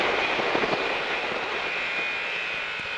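A motorcycle accelerates hard on the La Ferté Gaucher race circuit, its engine a loud, steady roar with a windy rush that holds for the whole stretch, and no voices.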